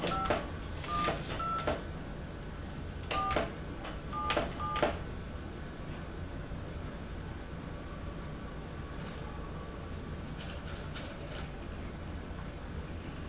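A telephone being dialed before placing a call, with short keypad tone beeps in several quick bursts over a faint background hum, then quiet line noise.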